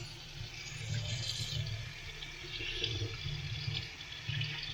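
Cold, low-pressure water washing a DNA air filter from a motorcycle, a steady gentle splashing and running-water hiss with a low rumble underneath, continuous and close, no speech.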